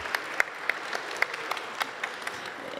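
Applause from an event audience for the organisers of a sustainable-mobility challenge in Hauts-de-France: fairly faint, fairly sparse clapping with a few distinct sharp claps, heard at a distance.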